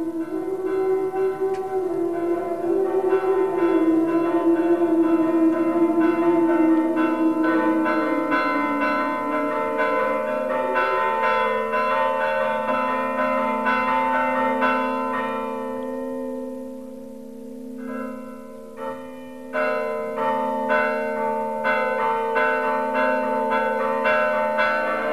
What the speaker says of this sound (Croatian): milosno zvono zacikta sa tornja